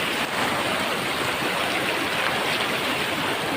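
A swollen river after rain and a landslide roars with a dense, continuous rush of water, loud and close, steady throughout with no voices.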